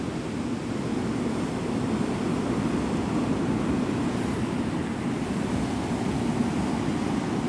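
Ocean waves surge and break on shallow water at Navarre Beach, Florida, at sunrise, a continuous loud wash of surf with wind noise and no distinct pauses between breakers.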